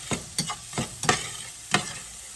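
Onions cook down in a pan over a low sizzle, with about six sharp stirring or scraping strokes coming at an uneven pace, close and fairly loud, and no voices.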